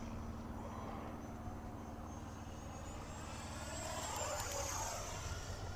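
A Freewing 64mm EDF F9F Panther RC jet flies past, its steady turbine-like whine and rushing roar swelling louder as it passes nearby, then easing off.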